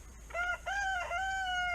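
A rooster crows close by in a backyard coop among two hens, a single clear drawn-out call in several rising and falling phrases, with no talking.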